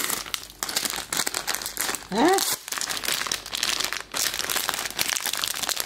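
Plastic wrapping on a Lego Ninjago surprise bag crinkles and crackles in repeated close bursts as it is opened, with a person talking over the rustling.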